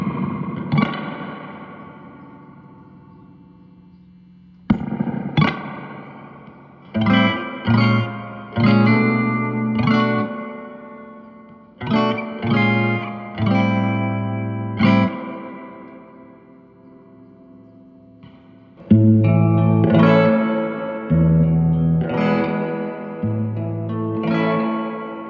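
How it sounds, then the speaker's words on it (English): An electric guitar plays through a guitar amp's spring reverb, its chords and single notes ringing with long, splashy, echoing tails, with a sharp spring crash near the start and another later, and no voices. "All right, let's hear how the reverb sounds."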